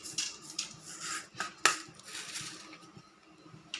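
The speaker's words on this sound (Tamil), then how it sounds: "இப்போ கடுகு போடுறேன்." Mustard seeds go into a hot pan for urundai kulambu, a Tamil lentil-dumpling curry, giving close, scattered crackles, pops and a sharp metallic clatter over a low sizzle.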